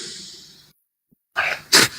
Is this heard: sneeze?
yes